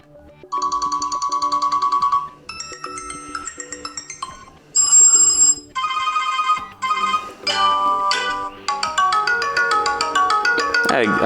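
Preset ringtones on a CAVION Base 5.0 phone play one after another, bright electronic melodies and chimes in short loud segments with brief gaps between them, no talking.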